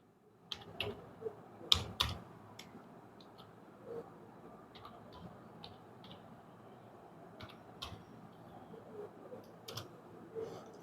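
Sparse keystrokes on a computer keyboard as a name is typed, quiet irregular clicks with a few sharper taps, over a faint room hum and no talking.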